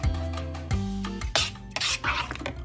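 Macaroni being stirred into a buttermilk cheese mixture in a bowl, with close, wet scraping and rubbing strokes in an uneven rhythm, brief pauses between mixing passes.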